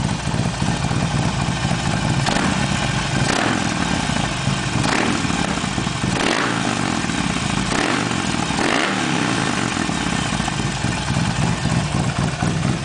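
A Harley-Davidson Sportster 48 fitted with a Torque Hammer full exhaust, dB killer removed, idles loudly and close by, with repeated throttle blips rising into deep, rumbling revs roughly every second or so throughout.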